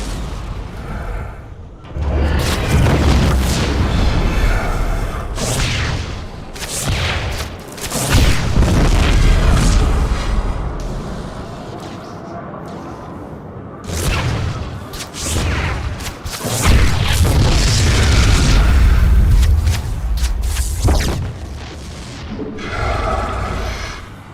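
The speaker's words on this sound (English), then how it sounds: "Another Protoss launch bay has been destroyed." Repeated heavy booms and roaring blasts in StarCraft II as a Protoss launch bay is destroyed, loud explosions arriving in bursts with brief lulls between them, no voices.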